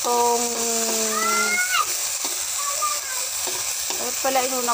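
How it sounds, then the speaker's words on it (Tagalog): Food sautés in a frying pan with a steady sizzle and a few stirring scrapes, close by, while a voice talks over it. "Igisa na natin."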